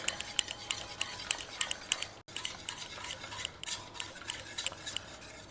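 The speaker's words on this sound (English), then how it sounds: "We'll just take a whisk and mash everything together." A whisk mashes cooked dal and vegetables in a pot, making quick, light metallic taps and scrapes in an uneven rhythm. The sound is close but fairly soft, with a short pause midway.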